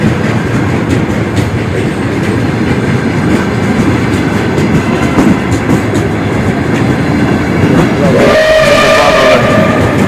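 A festive retro New Year train on the Lviv railway rumbles loudly and steadily with clattering wheels, and near the end a bright whistle sounds briefly over the running noise.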